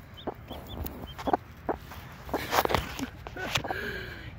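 A hen clucks in short, soft bursts beside a newly hatched chick in a garden nesting box, with faint peeping and scattered close calls and a person talking gently nearby.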